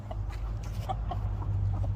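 A hen clucks in short bursts on a farm on a cloudy day, right after laying an egg outside the nesting box, close to the listener over a steady low hum.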